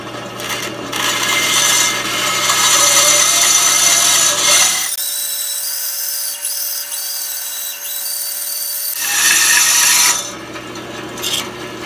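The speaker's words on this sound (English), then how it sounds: "So here we are at the bandsaw, and we'll go ahead and get this cut out" A bandsaw cuts through wood for a stool, a steady loud buzzing rasp that drops into a quieter hum with a thin whine midway, then swells back to full cutting noise before fading.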